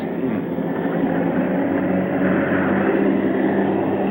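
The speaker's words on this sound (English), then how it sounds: "Planes!" A steady, heavy drone of aircraft engines fills the air, a continuous low roar that stays loud and even throughout.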